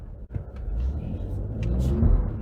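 A 2019 Ford Raptor pickup in four-high accelerating hard as its tires slip for traction, a steady loud low engine rumble building and swelling toward the end.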